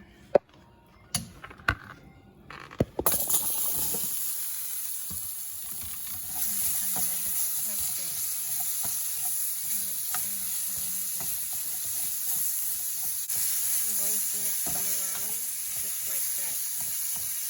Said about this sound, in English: add my green beans and carrots, and I'm going to saute them for about 3 to 4 minutes